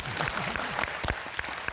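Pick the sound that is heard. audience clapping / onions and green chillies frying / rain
audience clapping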